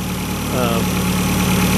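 A Fiat Abarth turbo engine idles while warming up after its turbocharger threw oil, a steady close rumble with a low, even pulse throughout.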